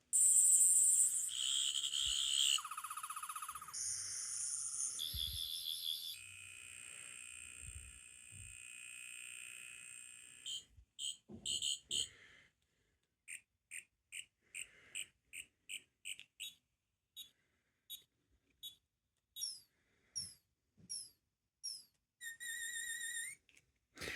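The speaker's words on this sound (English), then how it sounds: "All those different sounds from Sonic Screwdriver history." A Wand Company 10th Doctor sonic screwdriver universal remote cycling through its electronic sound effects: long warbling whistles and buzzing tones at first, then a string of short chirps and bleeps separated by silence, clear and close with no talk.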